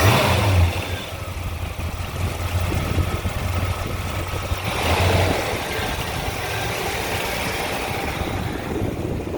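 A Chevrolet 150 with a 350 crate motor and aftermarket exhaust idles with a deep, steady rumble, rising briefly in a couple of revs before settling back to a loud, throaty idle nearby.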